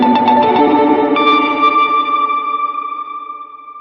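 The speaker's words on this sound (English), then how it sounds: "choppy, glitchy delay" Choppy, glitchy slice delay from a guitar pedal, with rapid stuttering repeats of a chord that settle into a sustained echoing tone fading slowly, loud and without speech.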